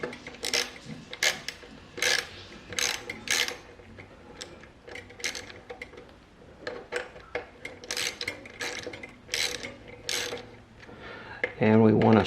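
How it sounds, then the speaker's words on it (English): A socket wrench with a hex head tightens rotor bolts on a Jetson Bolt Pro, giving repeated clicking ratchet bursts in short uneven runs, close and clear, ending with a louder mechanical whir. "after we've finger tightened the bolts, we can now take our socket and our hex head"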